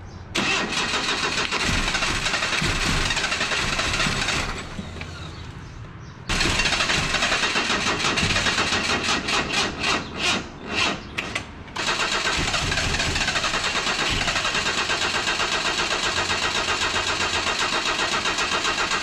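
Engine of a junkyard 1977 Datsun 710 wagon running roughly: a loud, steady engine that drops out, restarts, then sputters and stumbles in uneven bursts before settling back into a continuous rough run.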